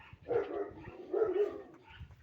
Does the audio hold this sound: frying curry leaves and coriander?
no